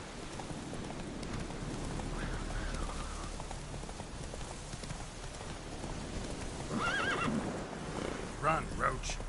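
Roach, Geralt's horse in The Witcher 3, whinnies loudly near the end while hooves clop steadily through a continuous wash of rain; a voice speaks faintly underneath.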